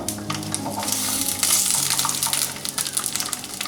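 Garlic cloves sizzling in ordinary cooking oil in a hot pan over low heat, a steady bright hiss with faint crackles, close and continuous, no voices.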